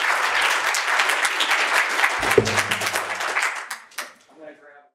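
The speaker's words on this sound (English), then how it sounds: "join me giving a round of applause" An audience at a business talk on hiring an SEO applauds as the speaker comes onto the stage, loud dense clapping that thins and fades out near the end while a voice speaks over it.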